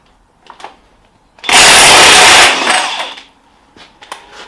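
A power tool loosens a nut on the 220 in one loud, harsh burst of about a second that fades quickly, with quiet clinks before and after.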